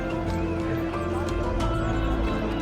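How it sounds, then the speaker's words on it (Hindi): Horses descending a mountain pilgrimage path on the Amarnath Yatra route, hooves clip-clopping steadily over a dense crowd din of voices and movement, with a brief whinny rising amid the steps. "जो घोड़ा खाली है वो उधर से उतर रहे हैं।"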